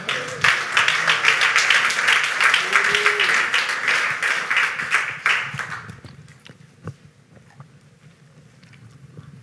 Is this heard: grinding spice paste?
no